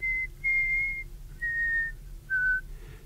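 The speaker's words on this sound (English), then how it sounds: "I was trying to whistle like Bach" A person whistles a tune in the manner of Bach, four clear, sustained notes in separate phrases with short pauses between them, alone against a faint background hum.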